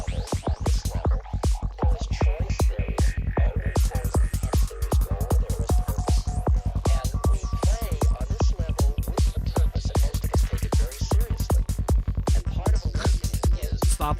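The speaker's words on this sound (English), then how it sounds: "It's Infinite Hybrid Patterns, Psytrance. And it sounds like this." A psytrance track plays loud and continuous, driven by a fast pounding kick and rolling bass. Busy synth layers and sweeping melodic lines sit on top, with no talking over the music.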